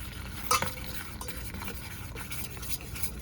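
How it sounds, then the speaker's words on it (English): Soft bubbling and sizzling of garlic butter boiling in a pot, a low steady churn with a brief clink near the start, no voices. "Butter's boiling now."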